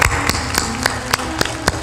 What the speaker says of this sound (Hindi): ताली बजा पे।